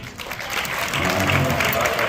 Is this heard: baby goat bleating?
no